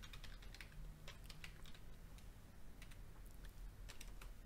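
Fast, steady typing on a computer keyboard, a close run of light clicking keystrokes at a low level with no voices.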